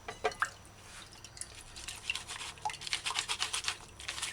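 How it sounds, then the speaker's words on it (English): Pomegranate juice strains through a strainer into a clean bowl, giving a run of soft, quick wet drips and patters up close that grow busier toward the end. "Pour mixture through the strainer into a clean bowl."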